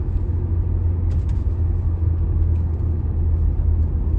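A 2006 Audi A4 Avant quattro 2.0T FSI with a six-speed manual gearbox accelerates on the road, heard from inside as a steady low engine and road rumble with faint whir.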